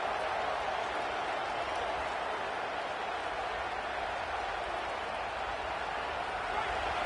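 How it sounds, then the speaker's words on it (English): Stadium crowd noise in a college football video game: a constant broad roar of fans, even and unbroken, at moderate level throughout with no clear voices on top. "This crowd bringing the energy and noise early."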